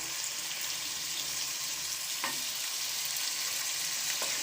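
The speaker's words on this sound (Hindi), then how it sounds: "आलूओं में साथ साथ चम्मच चलाते जाएंगे कि आलू जो है वो बहुत जल्दी जो है लग जाते हैं।" Potatoes sizzling steadily in oil in a karahi as a spoon stirs them, with a constant close frying hiss and a few soft scrapes.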